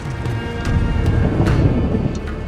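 Deep, heavy thunder rumbles loudly and continuously, close and powerful, with a faint hiss of rain over it.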